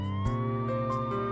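An ambulance siren wails in steady sustained tones, its pitch stepping between levels, fairly loud and continuous with no talking over it.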